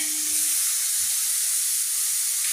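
Raw green mango pieces frying in ghee for a sweet mango murabba, giving a steady, even sizzling hiss that stays close and level throughout, with no voices.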